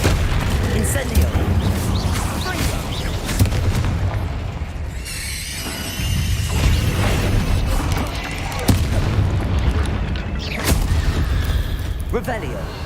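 An Incendio fire spell is cast in the video game Hogwarts Legacy, giving heavy booming bursts and crackling blasts that recur over several seconds amid a dense game soundscape, with a voice speaking at times.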